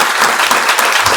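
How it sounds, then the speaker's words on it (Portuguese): An audience at an industry event applauds, with dense, steady clapping that is loud and fills the whole moment. "Uma salva de palmas"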